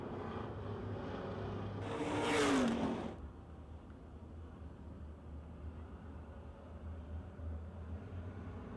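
Race cars at Pennsylvania Motor Speedway in Pittsburgh pick up speed as the green flag returns, one car roaring close past in a brief swelling rush before the engines fade into a steady distant drone.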